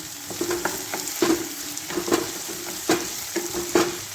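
Chili pieces and half a piece of ginger are stirred in a hot pan for dal fry, with a spatula scraping in a steady run of about ten separate strokes over continuous close sizzling.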